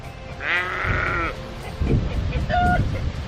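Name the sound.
sheep bleating in a paddock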